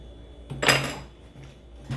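A creamy mixture being stirred in a pot, a single scraping, clinking pass of a utensil against the metal with faint light taps after it, close and without speech.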